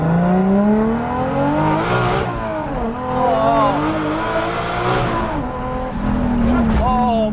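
A 1971 Nissan Skyline Hakosuka engine roaring and revving loudly, pitch sweeping up and down through gear changes, with excited voices talking over it.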